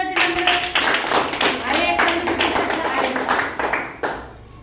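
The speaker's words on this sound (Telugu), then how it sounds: "వెరీ గుడ్ క్లాప్స్ కొడదాం" Children in a primary school classroom clap together for a classmate, a dense patter of many hands sounding close and steady, with a teacher's voice speaking over it.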